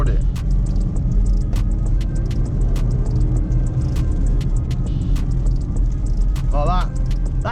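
Range Rover Velar under full-throttle acceleration from about 30, a steady close engine and road rumble from inside the cabin, with brief clicks and a short faint rising tone near the end.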